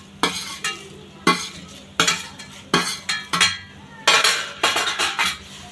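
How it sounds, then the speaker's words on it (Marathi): Fried garlic being stirred into roasted masala in a pan, loud rhythmic scrapes and clanks of a spatula against metal repeating about once a second over a soft sizzle, no talking. "त्याला असं छान एकत्र मसाला पूर्ण सगळीकडे लागून येईन असं हलवून घेऊ"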